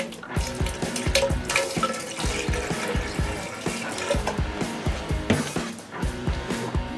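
Water running from an RV shower faucet, a steady splashing stream broken by repeated knocks and clunks, with no talk.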